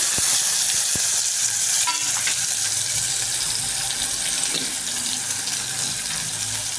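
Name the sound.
tomato and masala paste frying in a pan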